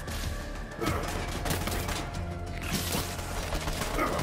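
Gunfire rattles in the video game Borderlands 3, a dense, continuous barrage of shots and impacts that stays loud and busy from start to finish with no clear pauses.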